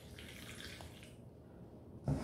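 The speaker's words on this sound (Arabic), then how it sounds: "غادي ناخذوا الماء كما كتشوفوا" Water runs from a tap in a kitchen during cooking, a faint, soft splashing stream that cuts off abruptly, followed by a brief clatter at the end.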